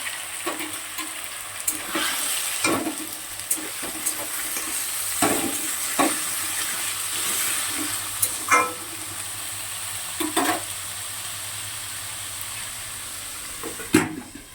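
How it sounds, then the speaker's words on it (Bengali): Potato pieces frying in oil in a wok, giving a steady, moderate sizzle with scattered stirring scrapes and clinks throughout, with no voices. "এদিকে কড়াতে আলুকে ছেড়ে দিলাম"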